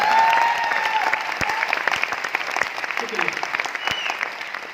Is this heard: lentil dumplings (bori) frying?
no